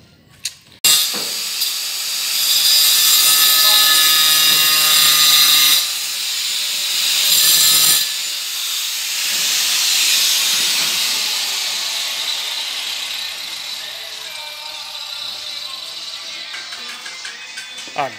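A small power cutting tool bites into porcelain tile for a 45-degree cut, a loud sustained grinding whine that rises and dips across several passes, then trails off into a quieter, steadier hiss.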